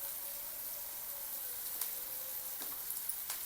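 Masala-stuffed capsicum cooks on sliced onions in a pan, producing a soft, even sizzle at low level with a few faint clinks and taps, no voices present.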